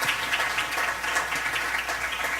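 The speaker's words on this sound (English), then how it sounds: "Big round of applause." A conference plenary audience gives a round of applause, with steady, moderately faint clapping sustained evenly for a couple of seconds and no talk over it.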